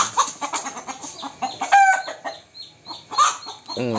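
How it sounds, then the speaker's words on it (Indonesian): Several chickens cluck and squawk close by in a busy, noisy flock, with sharp calls overlapping one another. "Ayam pun ribut ya kan, berkotak-kotak."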